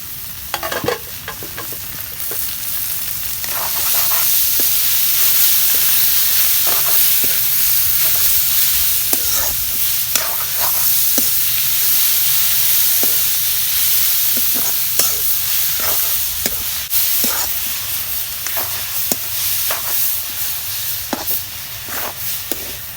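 Leafy greens (shak) frying in a pan, a loud continuous sizzle with regular scraping clicks of a spatula stirring throughout, close up with no talking.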